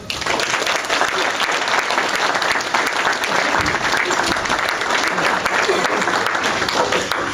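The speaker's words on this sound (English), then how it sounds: "let's give a big round of applause for Mr. Terry Adlam." A studio audience gives a big, sustained round of applause for a comedy writer and actor arriving as an interview guest, with continuous dense clapping throughout and no speech over it.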